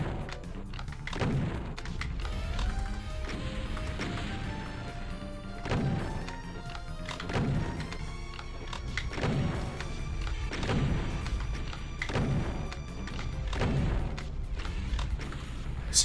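Repeated booming shotgun blasts from the video game DOOM II, Map10 Airship Subterfuge, fire in a steady rhythm about every one to two seconds over dense game music, loud and close with no talk.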